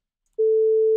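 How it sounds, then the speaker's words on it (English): A pure full-amplitude sine wave synthesized in SuperCollider starts abruptly after a short silence and holds one steady, loud, unwavering tone to the end, with no voices. "if we just don't specify anything, it is going to give us a full amplitude sine wave"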